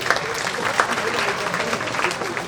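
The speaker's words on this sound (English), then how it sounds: "So let's give him a round of applause." Audience applause at a youth summit, a steady wash of many hands clapping throughout, fairly loud and close, with brief spoken sounds mixed in.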